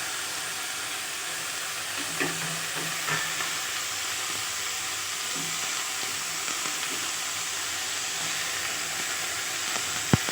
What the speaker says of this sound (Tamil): இதெல்லாம் சேர்ந்து நல்லா வதங்கணும்.